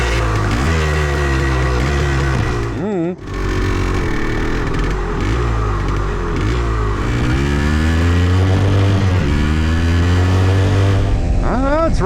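An old Yamaha motorcycle that has just been restored runs while being ridden, its engine loud and close, revving up and down through repeated rising and falling pitch sweeps with a short drop near the start, and a voice speaks over it now and then.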